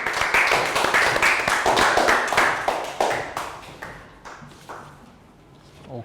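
Classroom of young schoolchildren clapping in a round of applause, a dense burst of many small hands that thins into scattered claps and fades out over a few seconds.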